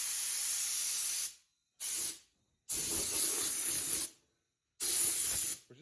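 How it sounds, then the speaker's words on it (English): Porter-Cable air compressor blowing off pressure through an air nozzle in four sharp hissing bursts of uneven length separated by silence, close and loud. "blow some of this, take some of the pressure off, and it'll kick on"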